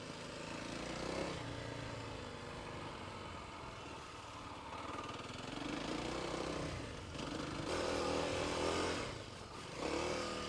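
A beginner off-road motorcycle engine runs steadily at low revs, a quiet, continuous drone that swells slightly a few times with no talking.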